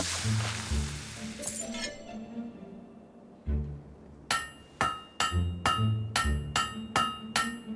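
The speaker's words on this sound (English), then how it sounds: "You know how to use a hammer." Close, bright metallic strikes of a hammer on a blade being forged in Fable 3, a few scattered hits followed by a quick, regular run of ringing clanks with a low thud under each.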